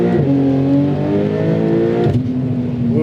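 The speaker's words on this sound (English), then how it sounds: "So we're in Sport Plus mode and do a little second gear roll on." A Stage 4+ Porsche 992 Turbo S in Sport Plus mode does a second-gear roll-on: a loud, close flat-six engine note climbs steadily in pitch, breaks briefly for a shift, then resumes at a lower pitch.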